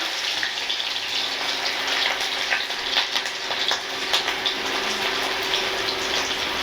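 Garlic and ginger fry in a pan, a continuous loud sizzle and hiss with small crackling pops throughout, with no voices.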